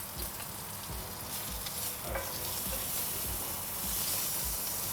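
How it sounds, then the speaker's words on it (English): Lamb loin chops (hogget) browning in a hot frying pan, giving a steady, close sizzle and spitting hiss that runs continuously with small crackles throughout, no voices. "you're just going to brown them all over before roasting them in the oven"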